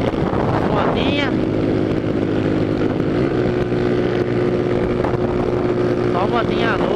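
Motorbikes pass on the road near Araras, their engines revving in rising whines early and again near the end over a constant drone and wind buffeting.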